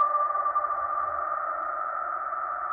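A short bat social call recording plays as a steady, sustained tonal whine, a single clear held pitch with faint wavering, fairly quiet and alone against near silence.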